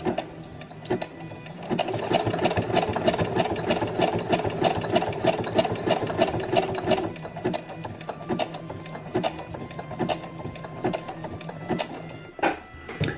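Domestic sewing machine running a zigzag stitch on a bra, a rapid mechanical clatter of needle strokes, steady and close for several seconds before slowing into short bursts and stops.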